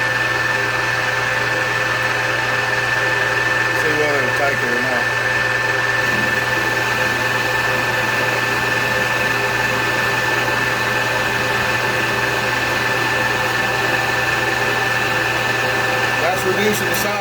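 A machine steadily cuts a part for a case splitter, taking a heavy 50-thousandths cut. It gives a continuous, even mechanical hum with a steady tonal whine that runs unbroken throughout, close and moderately loud.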